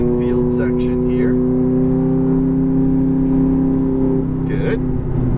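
Ferrari F430 engine droning steadily at speed on a race track infield, a sustained loud in-car hum with a brief rise near the end while a driving instructor talks over it.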